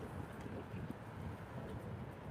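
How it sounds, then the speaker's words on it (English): Strong outdoor wind buffets the microphone in a steady, close, low rumbling roar that continues without a break throughout. "Like I'm literally getting blown around in the wind right now."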